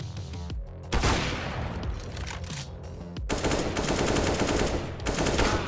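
Rapid automatic gunfire from a Kalashnikov-style rifle in Counter-Strike, loud and sustained across the whole stretch, with a brief gap near the start and a dense burst after it, with no voices over it.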